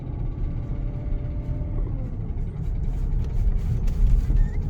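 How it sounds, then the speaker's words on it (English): A damaged Porsche Cayenne 4.5 V8 SUV drives with a rough, uneven low engine rumble that swells slightly toward the end, steady and fairly close throughout. "you can hear it's like GTA 1 when the car is broken there."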